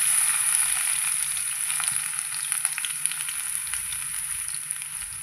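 Garlic hits hot oil in a kadai on a gas stove and crackles with a loud, dense, continuous sizzle, with sharp pops scattered through the steady hiss.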